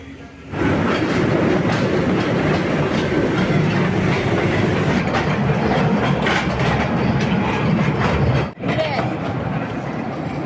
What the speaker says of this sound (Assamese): এই ট্ৰেইনখন ইয়াতে এনেকৈ পেলাই ঘূৰে গোটেই ৰাউণ্ডটো ইয়াতে ঘূৰাব